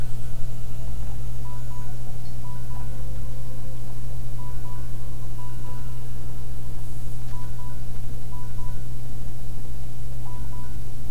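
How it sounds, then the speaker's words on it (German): A mobile phone rings in the background during a horse-riding sequence in Assassin's Creed II, its short electronic tone bursts repeating steadily over a loud constant hum and game sound. "mein Handy, ihr hört im Hintergrund schon mein Handy herumbimmeln."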